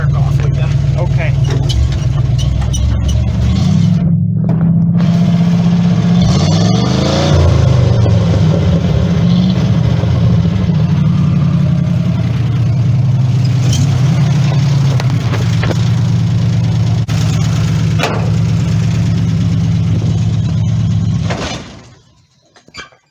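A farm truck engine with its alternator wired in, running close and loud: steady idling with a few revs, then it stalls and cuts out near the end as the engine dies. Someone talks over it at times.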